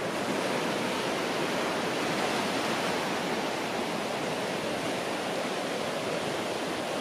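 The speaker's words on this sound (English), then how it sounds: "Pretty mild here as far as waves go today" Mild ocean waves wash steadily onto a beach in Nayarit, Mexico, a continuous broadband surf roar with no distinct breaks, fairly close and unbroken by voices.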